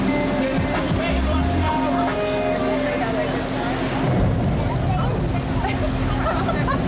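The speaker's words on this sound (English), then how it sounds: "we got some rain." Simulated rainstorm effect inside a Universal Studios attraction: steady loud rain hiss with low rumbling underneath, continuous throughout, with voices audible beneath the downpour.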